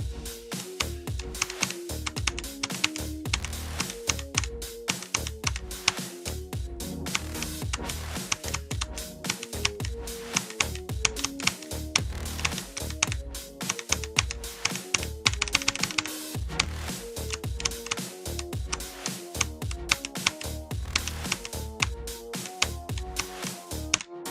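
Continuous fast typing on a computer keyboard, close and clear, dense rapid key clicks with a few louder bursts over about twenty-four seconds, no talking.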